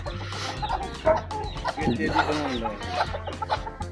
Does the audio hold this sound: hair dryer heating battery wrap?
no